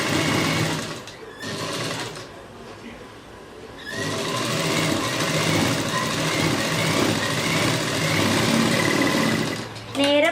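A sewing machine runs a straight seam on piping for a neckline, giving a fast, even mechanical whir in bursts with short pauses. Someone speaks over it.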